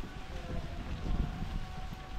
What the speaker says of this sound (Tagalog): nag-umpisa na po yung hangin